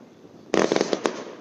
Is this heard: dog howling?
no